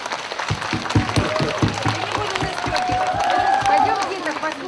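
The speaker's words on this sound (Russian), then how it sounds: "Аплодисменты." A concert audience applauds at a wartime song performance, rhythmic hand claps fading into a continuous crowd din while a voice carries on over it.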